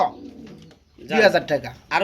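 Pigeons coo softly, with a low murmur at the start and louder overlapping coos later, heard close by.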